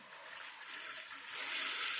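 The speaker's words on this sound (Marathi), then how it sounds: "इथे मी याला स्वच्छ दोन तीन पाण्याने धुवून घेणार आहे" Raw sabudana (sago pearls) being rinsed with clean water in a kitchen: steady close splashing and trickling that swells slightly toward the end, with no talk.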